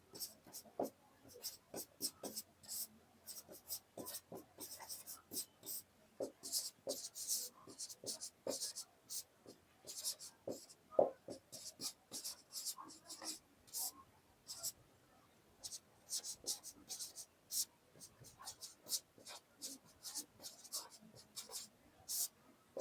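A teacher writes on a board during a class 10 biology lesson, with faint intermittent scratching strokes and taps in bursts, close and quiet, interspersed with soft speech.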